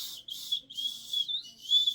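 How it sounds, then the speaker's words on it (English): Small whistle from a paracord survival bracelet blown in several shrill, piercing bursts of uneven length, close and fairly loud, with no talking. "and a whistle."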